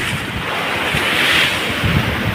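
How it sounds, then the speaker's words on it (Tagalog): Strong typhoon wind roars and gusts across the microphone at a port in Gen Luna, Quezon, with waves surging steadily beneath, loud and continuous without a break. "Hangin lang ang malakas mga idol"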